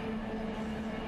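Locomotive brakes being applied in the Run 8 Train Simulator game, heard as a steady, even rumble with a sustained low tone and no voices, holding at a constant level for about a second.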